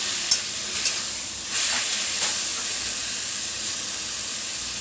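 Water spinach (kolmi shaak) stirred and fried in a pan on a high gas flame: a continuous hissing sizzle with a couple of scraping stirs early on, then a steady steam-like hiss.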